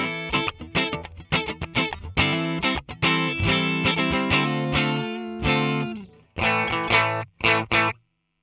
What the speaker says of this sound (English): Twin reverb. This should be brutally clean.